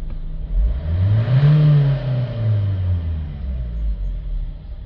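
Renault Trafic van engine idling and then revving up and back down, a loud close rumble whose pitch rises and falls over a few seconds before settling into a steady idle.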